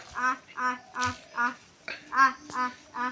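Repeated quacking calls from several birds, about eight evenly spaced calls, close by with a few soft clicks between.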